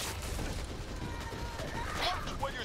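Gunfire in the co-op zombie shooter Back 4 Blood: a steady crackle of shots over a busy game soundscape, with a voice speaking faintly underneath.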